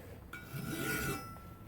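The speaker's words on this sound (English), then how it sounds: "we can cut into it with a file" A metal file rasps across a carbon steel rail track section in one steady, close stroke of about a second, gritty and fairly quiet, bracketed by near silence.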